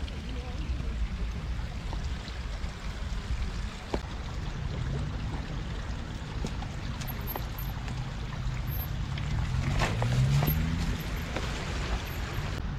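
A small river stream flows quietly beneath a path, as a faint, steady wash and trickle under low rumble and occasional soft knocks.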